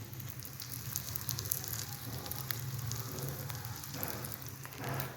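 Kebabs frying in a pan in a home kitchen, a steady soft sizzle and crackle of oil, fairly quiet and continuous with no talk.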